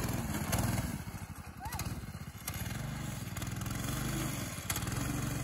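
Predator 212cc go-kart engine driving over grass, a mid-pitched motor revving and easing off in waves at close range, with people talking over it.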